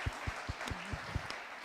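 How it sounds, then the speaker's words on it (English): Scattered, fairly faint clapping from an audience at a mountain-region business pitch event, a handful of distinct claps spaced irregularly rather than a full roar. "So a big round of applause for those groups."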